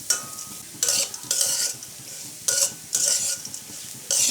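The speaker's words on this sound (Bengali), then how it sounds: "এটা ডালটা ভাজা ভাজা হয়ে আসছে" Masoor dal, red lentils, sizzles in a pan while a spatula stirs in repeated short bursts of scraping and crackle, fairly close with quiet gaps between strokes.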